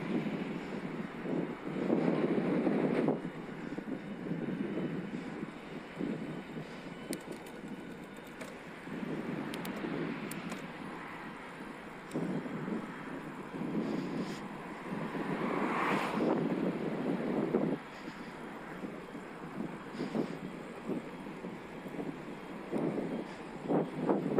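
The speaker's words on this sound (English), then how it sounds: "Very windy, and I'm going straight into this headwind." Strong headwind roars and buffets against the microphone of camera glasses while cycling, gusting louder and softer for the whole stretch, with no voices.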